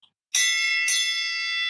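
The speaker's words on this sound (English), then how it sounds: "gotta ring the bell a couple times" A small bell is struck twice in quick succession, each ring bright and sustained, loud and close with nothing else heard.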